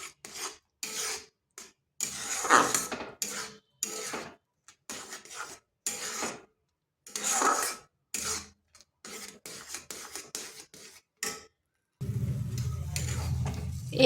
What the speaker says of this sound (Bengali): এইভাবে নেড়ে চেড়ে একটা শক্ত ডো তৈরি করব